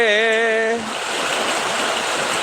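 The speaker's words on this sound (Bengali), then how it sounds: "দেখেন বৃষ্টির পানিগুলা গাছের পাতায় কীভাবে" Heavy Malaysian rain pours steadily onto tree leaves, making a dense, even rushing hiss close by. A brief voice sounds at the very start.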